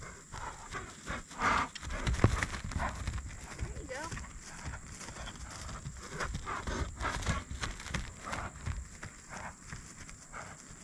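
A real horse moves and its hooves clop irregularly on the ground while being bathed, lunged and ridden, with a person talking over the sounds throughout.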